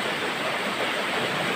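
A river flows steadily below a steep slope in an orchard area of Sabang, Pinamalayan, Oriental Mindoro, giving a constant broadband rush of water with no breaks and no voices over it.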